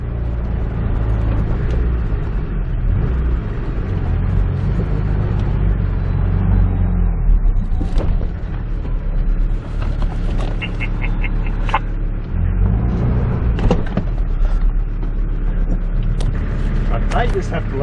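A vehicle drives over rough, grassy country ground with a constant loud low engine rumble and road noise. There are occasional knocks and creaks from the uneven surface, and people talk throughout.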